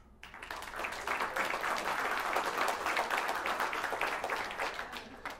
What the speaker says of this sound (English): By a round of applause.